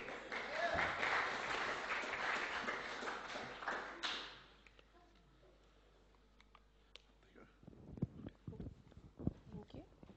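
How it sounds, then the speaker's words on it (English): Audience applause for a student speaker at a university honours information session fills the first four seconds and then fades out. Scattered taps and knocks follow in a quiet room. "Round of applause for Casey."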